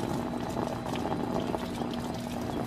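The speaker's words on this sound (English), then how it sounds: "Let's get some water. Fill her up, Ethan." Water gushes steadily into an inflatable backyard pool from close by, a continuous bubbling, churning flow with a faint hum underneath.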